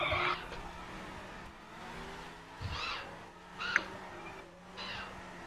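Cars drift in an arcade-style racing video game, throwing out several short tire screeches at irregular intervals over a low engine drone, all fairly quiet.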